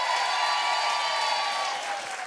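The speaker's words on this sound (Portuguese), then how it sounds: "E vamos aplaudir essa plateia maravilhosa" Audience applause in a studio at a live talk show taping, a steady dense wash of clapping held at even strength throughout and easing slightly at the end, with no voices over it.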